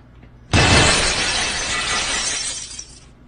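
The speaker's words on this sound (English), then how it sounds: "Did you just chuck the glass?" A glass thrown and shattering: one sudden loud crash of breaking glass, followed by about two and a half seconds of tinkling, scattering shards, with no voices.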